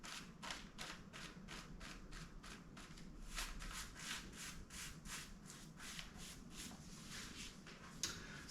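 Paper is rubbed over an inked fish to make a gyotaku print, producing a steady series of rhythmic, swishing strokes at close range with no talking.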